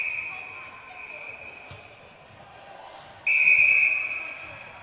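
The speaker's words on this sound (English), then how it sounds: "A lot of whistle blowing there" A referee's whistle sounds at a netball match, a steady tone that swells into a louder sharp blast near the end, under court noise and bouncing balls with voices present.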